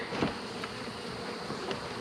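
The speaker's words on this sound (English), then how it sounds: "we got some bees in here" Bees drone steadily inside a wooden swarm trap box as it is opened, a dense continuous buzz with a few louder swells as individual bees pass close, no voices over it.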